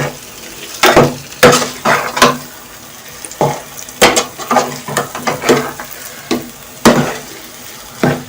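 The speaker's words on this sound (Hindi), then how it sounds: "ये आप देख रहे हैं आलू हमने जैसे ही डाले हमारा सारा ऑयल पीना शुरू हो गया।" Potato cubes fry in oil for aloo ki bhujia, with intermittent loud scraping and stirring clatter of a spoon against the pan over a soft background sizzle.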